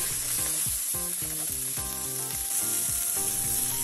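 Smash burger patty in a pan, a steady close sizzle of frying meat that runs throughout, with tonal musical sounds layered over it and no talking.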